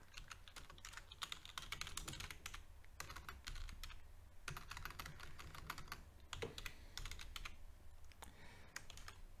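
Computer keyboard typing during copy and paste shortcuts: quiet, quick bursts of key clicks with short pauses between runs, close but low in level, with no voices.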